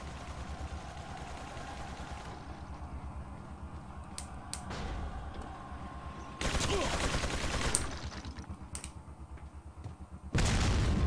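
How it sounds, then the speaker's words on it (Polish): A grenade blast in Resident Evil 4 comes as a sudden loud burst of broadband noise partway through, with a second burst near the end. A fainter mechanical game background and clicking run before and between them. "Rzucić granatem, może to coś da."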